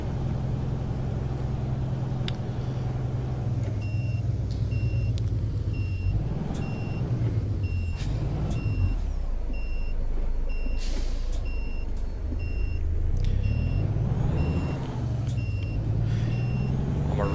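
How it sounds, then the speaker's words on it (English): Repeated indicator beeps from a truck in American Truck Simulator ring out steadily over a constant low engine drone, with the driving rumble swelling at moments. "that had the same sort of beeping that that this truck has"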